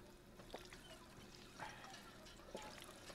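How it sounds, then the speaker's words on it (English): Quiet game sound of a character drinking water in Fallout 4, a few soft liquid pours and gulping splashes in a short sequence over faint background hiss. "Drink water."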